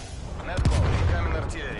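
Incoming artillery fire in Call of Duty Warzone, a loud low boom with a sharp crack, rumbling briefly.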